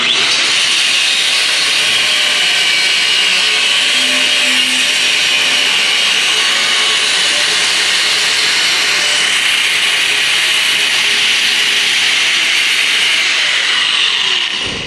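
A power cutting tool slices through a steel exhaust pipe at an angle during custom exhaust fabrication, a loud, harsh continuous grinding whine sustained close-up for about fifteen seconds, cutting off sharply at the end.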